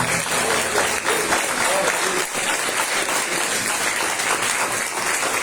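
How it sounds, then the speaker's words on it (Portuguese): A church congregation claps loudly and continuously in praise during a Brazilian worship service, a dense steady roar of hands filling the room with no pauses. "Você pode aplaudir Jesus assim."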